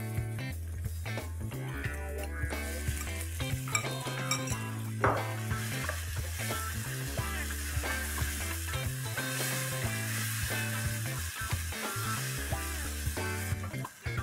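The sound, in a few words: chopped tomatoes added and stirred in a frying pan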